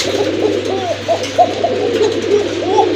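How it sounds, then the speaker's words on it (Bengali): A pair of coca pigeons coo in a loft, giving repeated soft, rolling coos close by with a steady low hum underneath. "অনেকদিন পরে এক জোড়া কোকা কবুতর দেখলাম যেগুলো কিন্তু প্রচুর ডাকে"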